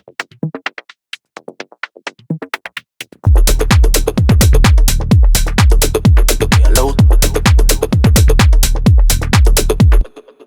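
A tech house drum texture loop for a minimal tech house track, with sparse clicky percussion hits first, then a dense, steady groove of punchy kicks and busy ticking percussion running loud to the end.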